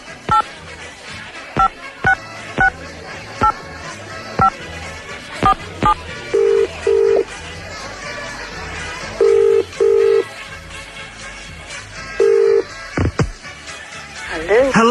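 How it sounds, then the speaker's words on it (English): A telephone number is dialed on a 1990s radio station phone line, with a series of short clicks and several paired DTMF keypad tones. The tones sound in separate bursts over a background of low broadcast noise. "I'm just going to dial up a Motson"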